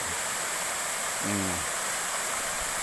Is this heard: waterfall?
yes